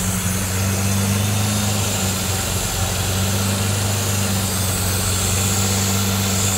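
A Lamborghini LM002's engine idles steadily close by, a constant deep rumbling drone with a sharp edge that runs without a break for several seconds and no talking over it.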